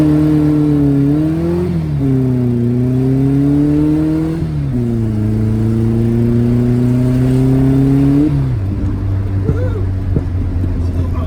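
A Volkswagen Beetle engine drones as the car drives on the street, its pitch climbing through gears with shifts in between, steady and close inside the cabin, with people talking over it.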